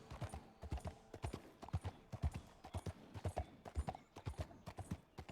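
A horse trots in Red Dead Redemption 2 with rhythmic, fairly quiet clip-clop hoofbeats that repeat steadily through the whole stretch.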